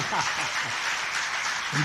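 A whole assembly at a religious gathering bursts into applause, a dense, continuous wash of many hands clapping, with a voice briefly heard over it at the start and again at the end.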